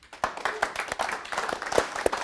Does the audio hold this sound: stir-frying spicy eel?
no